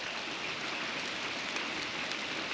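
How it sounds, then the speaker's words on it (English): Rain drumming on an RV roof while camping in Montana, a faint, even patter of steady hiss with no voices. "Rain on the roof?"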